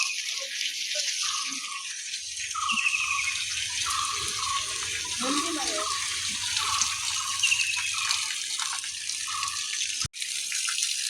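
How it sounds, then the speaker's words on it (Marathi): Water flows steadily from a spout into a temple tank in Goa, a continuous splashing gush with distant ambient outdoor noise and brief faint voices. "हांगा नंदीचें एक तोंड आसा तितूंतल्यान उदक व्हांवता"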